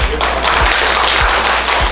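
An audience claps at an awards-style gathering for a production design academy, steady dense applause filling the whole moment at close, loud level.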